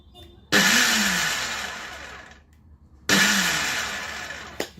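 A 1000-watt Kenwood blender motor whirs loudly in two pulse-mode bursts, stopping in between and ending with a brief final jolt, each burst starting with a sharp surge.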